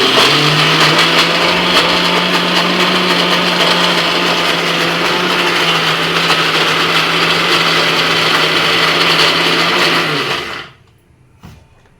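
A mixer grinder blends raw mango and moong dal into chutney, a loud, steady whirring motor drone that runs unbroken for about ten seconds before cutting off abruptly into near silence.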